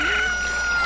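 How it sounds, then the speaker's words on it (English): A cucco hatched from an incubated egg crows in the game Ocarina of Time, giving a bright, sustained electronic cock-a-doodle-doo that lasts about a second, loud and up close. "a chicken hatched from the egg you were incubating"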